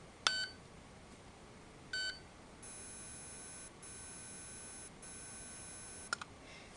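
Short electronic beeps from an Aetertek AT-218 electronic dog collar, a couple of brief chirps followed by long steady tones with short gaps, then a quick double beep.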